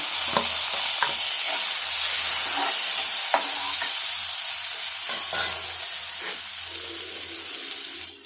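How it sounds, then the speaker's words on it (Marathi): Chopped onion and tomato fry and sizzle steadily in a pan for a drumstick-pod vegetable dish, with intermittent scraping of a stirring spoon and occasional clinks against the metal. "आता टोमॅटो टाकू कांदा चांगला भाजलाय आहे आपला"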